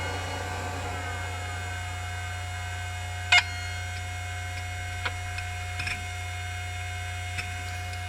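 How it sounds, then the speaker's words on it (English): An old SCSI hard drive gives a few sharp, sparse clicks, one louder than the rest, over a steady electrical hum and the drone of a loud video card fan. "It's also got a nice healthy click."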